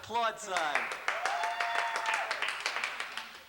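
Scattered hand claps ring out in quick succession, a small round of applause starting just after a voice and continuing alongside talking.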